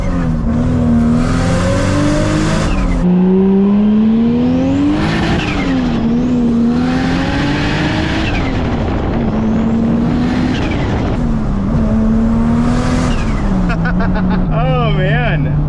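A 600hp Toyota MK4 Supra with a W58 gearbox accelerates hard, its loud engine climbing through several gears with rising pitch and brief dips at each shift, heard close and continuous throughout.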